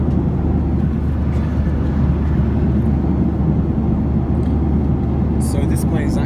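Steady, loud low-frequency roar fills the cabin of a Norwegian Boeing 737-8JP in flight from Stockholm to London Gatwick, constant engine and airflow noise with a voice speaking over it.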